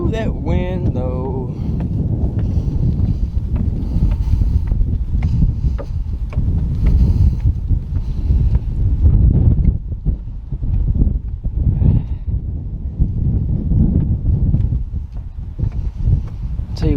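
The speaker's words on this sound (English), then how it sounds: "Ooh, that wind though." Gusty wind blowing outdoors at Pinson Mounds State Park, a steady loud rumble buffeting the microphone throughout, with a brief voice near the start and faint scuffing underneath.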